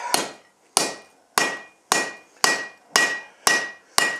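Hammer blows forging relatively cold metal, eight sharp evenly spaced strikes about 0.55 seconds apart, each ringing briefly with a metallic tone before decaying, loud and close with no talking.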